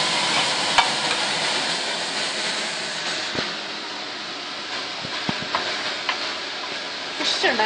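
Fenugreek seeds heating in rice bran oil for a fish curry give off a steady bright sizzle, with scattered spoon taps and scrapes in the pan.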